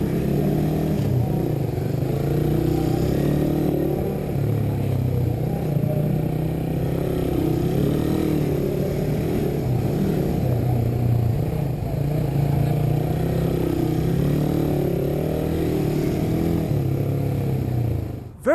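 Suzuki Raider R150 carbureted 2019 third-generation motorcycle ridden on laps, its engine drone steady and loud throughout with shifting revs and rushing wind, fading out at the very end.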